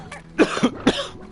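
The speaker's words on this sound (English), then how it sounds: "Sorry about the coughing." A short cluster of two or three harsh coughs close to the microphone, with throat clearing, in quick succession.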